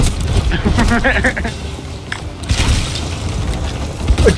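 Booming explosions from cannon and harpoon fire at a ship in the pirate game Sea of Thieves, heavy low blasts and rumbles layered with clatter and a voice talking over the din.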